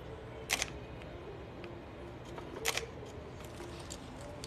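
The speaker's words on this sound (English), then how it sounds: "I want to hear the shutter" Two crisp shutter clicks from a Fujifilm X-Pro3 mirrorless camera, spaced about two seconds apart, near and fairly quiet against a soft indoor room hiss.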